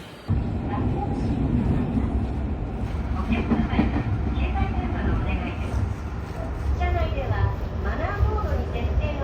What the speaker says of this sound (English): Getting off the express train, getting on a local train.